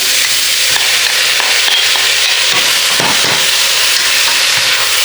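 Dried fish mixed into a sizzling pan for a dried-fish biryani, giving a loud, constant frying hiss with occasional soft stirring scrapes close up.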